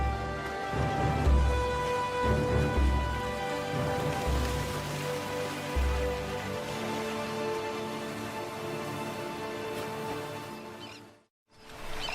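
Heavy monsoon rain falling steadily on an island coast, a dense continuous wash with low thudding gusts, loud and close, cutting off briefly near the end.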